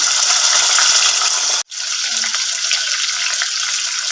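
Chicken fries with cumin in a pot, a loud, dense sizzle that runs continuously apart from one brief drop-out before resuming at full strength.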